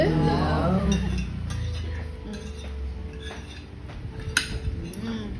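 A serving ladle clinks and scrapes against dishes and cutlery at a family meal, in bright metallic taps, with a brief voice at the start and light background noise.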